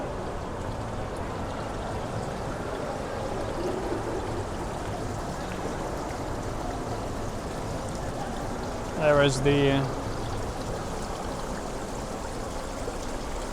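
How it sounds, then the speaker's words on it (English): Water flows continuously over an infinity-edge feature in an indoor shopping mall, a soft steady trickle under faint mall ambience, with a short burst of voice partway through. "Infinity Edge water bed. I guess there's no real feature here, just for aesthetics."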